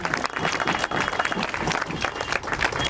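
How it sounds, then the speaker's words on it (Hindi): A church congregation claps together in thanks during a feast-day service, dense steady applause from a crowd throughout, with faint voices mixed in. "ताली बजाते हुए सब लोग प्रभु को धन्यवाद दें।"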